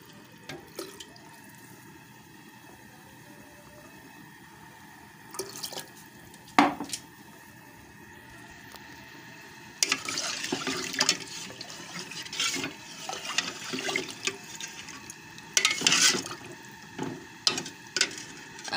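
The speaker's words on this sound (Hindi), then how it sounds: "आधा किलो चावल हैं, 1 लीटर हम पानी डालेंगे" One litre of water is poured into a pot holding half a kilo of rice for a cauliflower vegetable biryani. The splashing runs in bursts, swelling louder and more continuous in the second half, with no talk.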